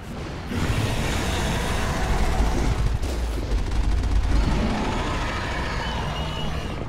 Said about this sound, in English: How often can I use the cannon?